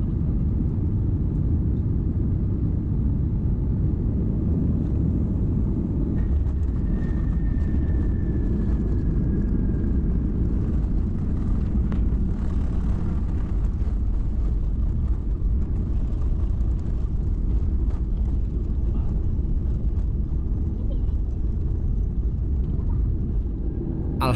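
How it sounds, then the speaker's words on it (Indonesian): A steady, low jet-engine rumble fills a Malaysia Airlines airliner cabin on landing approach from Jakarta to Kuala Lumpur, with a faint brief tone partway through and no talking. "pesawat sudah dalam posisi approaching runway"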